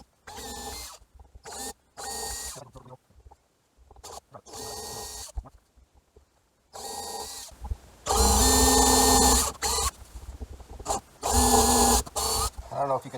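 Power drill boring pilot holes during an in-motion Starlink antenna install on an EarthRoamer, several short whirring bursts broken by pauses, the longer runs loud and close, with brief talk between them.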